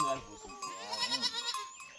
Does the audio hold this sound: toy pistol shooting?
no